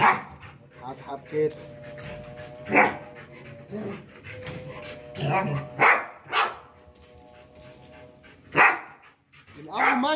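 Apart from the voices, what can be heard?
dog barking and whining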